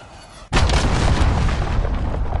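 An enemy cruise missile strike detonates in the Modern Warfare beta multiplayer match, a sudden loud blast that keeps rumbling as a long, dense roar through to the end, with no talk over it.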